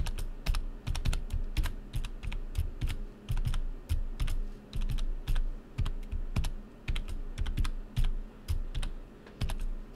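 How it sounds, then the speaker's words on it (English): A long passphrase is typed on a computer keyboard, with close, steady, rapid key clicks in continuous runs and only brief gaps, heard alone. "Hopefully I typed that guy in there correctly."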